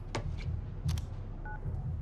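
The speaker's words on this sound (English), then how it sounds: "I better call him." A phone call is dialed in FIFA 19, two brief steady tones sounding together, faint and short, over a low hum of background music and a few soft clicks.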